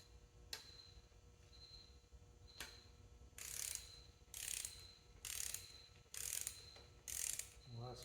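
Ratchet wrench snugging down the head bolts on a 1959 Clark Clipper forklift engine, heard as repeated bursts of rapid clicking ratchet strokes, each lasting about half a second, with isolated ticks between them.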